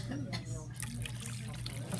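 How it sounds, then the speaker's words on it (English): About two cups of water pour into a pot of Egyptian koshari already holding vinegar and harissa, a soft, continuous splashing trickle heard faintly under people talking nearby. "now I'll put another about 2 cups of water"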